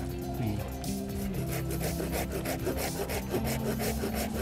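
A large hand saw cutting through wood to break apart a pot around a fir bonsai, steady rapid rasping strokes close by and continuous, with no talk over it.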